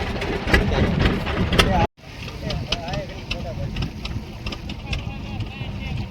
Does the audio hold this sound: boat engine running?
yes